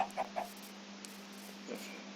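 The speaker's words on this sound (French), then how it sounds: "Je cours après une poule, c'est horrible." A Minecraft chicken makes a few soft clucks near the start, set against a steady background hum in the game and with no talking.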